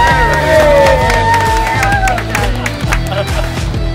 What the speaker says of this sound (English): A little cheer, come on.